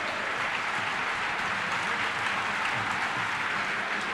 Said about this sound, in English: A round of applause there from the Notts County fans for the Belper Town support.